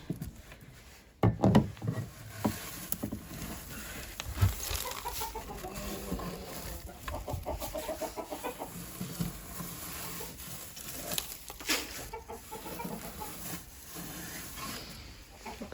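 Hens cluck softly in farm laying boxes fitted with new liners, with scattered rustling and patter from birds moving. Short, louder bursts come near the start, and a low, steady murmur of fowl sounds continues throughout.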